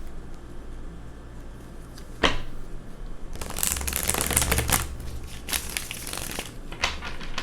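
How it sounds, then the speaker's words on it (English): Tarot cards shuffled by hand in a few quick riffling bursts, a sharp snap near the start and then a longer run of papery crackling flutters, close and fairly quiet over a low steady hum. "let me just shuffle one more time"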